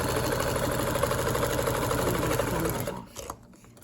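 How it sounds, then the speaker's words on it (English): A vintage blue-green Brother cam-driven zigzag sewing machine runs fast through thick vinyl with a dense, rapid mechanical chatter and motor hum for about three seconds, then stops abruptly into quiet handling clicks. "this machine will sew through this material pretty easily"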